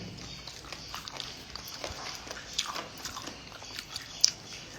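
Chicken bitten and torn apart at a festive Onam sadhya meal, close crunchy biting and chewing sounds with scattered sharp snaps, steady and fairly loud with no talking.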